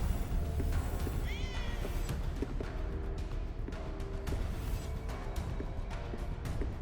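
In the video game Ghostwire: Tokyo, a cat gives a brief meow over a dense, steady game soundscape, followed by faint scattered clicks and ambient noise.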